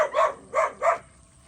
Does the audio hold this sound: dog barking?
yes